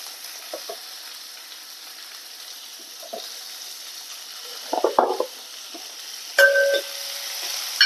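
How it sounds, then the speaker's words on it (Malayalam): Steady sizzling hiss of curry leaves dropped into hot oil, with a few short crackles and a brief clatter of a utensil near the end. "കുറച്ച് കറിവേപ്പില ഇട്ട് കൊടുക്കുക"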